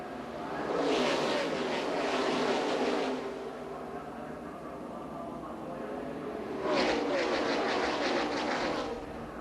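Stock cars race past in the 2011 Gatorade Duel, two loud roaring passes a few seconds apart that surge and fade, with a race commentator talking throughout.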